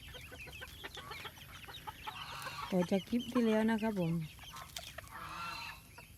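Morning clucking from black chickens, chicks, native chickens and Betong chickens, a mix of soft clucks and chirpy calls, close by, with someone talking over the start.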